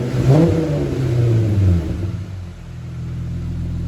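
A cold Jeep Rubicon fitted with a Dynamax tailpipe gets a quick rev that rises and falls, then drops back to a steady low exhaust rumble, heard close and without voices.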